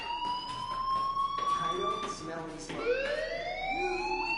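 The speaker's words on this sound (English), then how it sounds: "do you hear that fire alarm? That means you should be outside." A fire alarm rings in the video game Life is Strange as a loud, steady electronic wail that holds a tone and then sweeps upward, continuing throughout.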